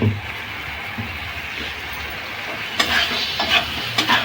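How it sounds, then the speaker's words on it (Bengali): Black gram lentil batter with salt and chili beaten by hand in a bowl: soft, wet stirring that turns into a few quick, rhythmic strokes near the end, heard up close without talk. "এইদিকে আমি বিউলির ডালটা নুন দিয়ে লঙ্কা দিয়ে ফেটিয়ে নেব।"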